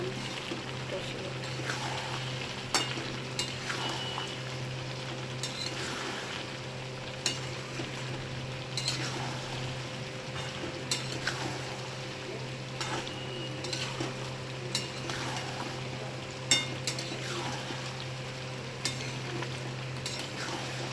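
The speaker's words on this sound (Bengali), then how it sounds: "এবারে মশলাটা দিয়ে এবার একটু ভালো করে নাড়িয়ে কষিয়ে" Tandoori, meat and chaat masala spices are stirred and fried in a pan, a steady close sizzle with regular scraping strokes of the spoon against the pan over a low background hum.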